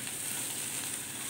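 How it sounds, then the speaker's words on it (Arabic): Onion sizzles steadily in a hot pan while being stirred for a meat kofta and potato dish, a close, even hiss with no talk. "البصله كده تاخد لها تقليبه كده، مش هتحمر"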